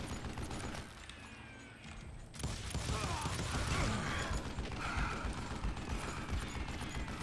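Gunfire in the Wild West shooter Call of Juarez Gunslinger comes as bursts of shots with clanking mechanisms, quiet at first and then a denser stretch of fire after a couple of seconds.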